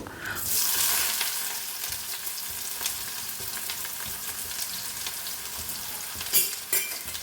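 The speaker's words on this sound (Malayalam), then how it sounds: "സവാള ഇട്ടു." Sliced onions hit hot coconut oil with mustard seeds, starting with a loud hiss that settles into a steady, close sizzle, with a couple of utensil scrapes near the end.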